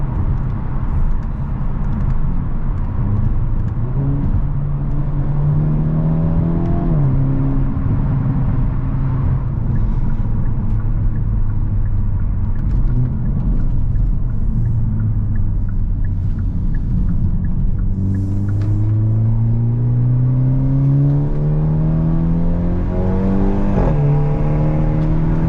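A 2023 Hyundai Elantra N drives and accelerates from inside the cabin, its engine note rising steadily through gears with clear shifts and a constant rumbling drone, loud and continuous with no talking.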